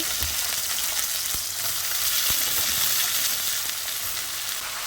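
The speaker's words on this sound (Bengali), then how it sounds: "পেঁয়াজটা ভাজা হয়ে গেছে এই যে এবার সাবলা দিয়ে দিচ্ছি" Loud, continuous frying sizzle of onions and vegetables in hot oil, with a couple of soft knocks from a utensil, close and steady throughout.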